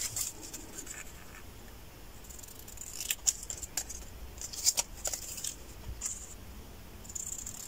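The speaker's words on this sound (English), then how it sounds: "cut these flaps off" Scissors snip through folded paper flaps while making a stationery set, a few quiet crisp cuts clustered in the middle, alone at low level in a quiet room.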